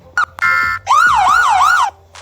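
An emergency-vehicle siren sound effect, played back while being edited, gives a short blip, then a steady tone, then a loud wailing sweep that rises and falls about three times before cutting off.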